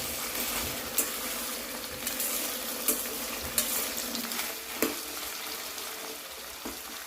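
Elephant foot yam pieces roasting in a hot pan, giving a constant dense sizzle with occasional sharper pops and crackles, close and steady throughout.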